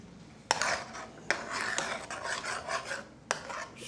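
Food stirred in a cooking pot with a utensil, a close, continuous rasping scrape punctuated by a few sharp knocks against the pot, with no talk.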